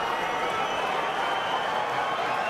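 A capacity boxing crowd of over 16,000 at a big fight roars and applauds in a dense, continuous, loud wash of cheering and clapping, steady throughout.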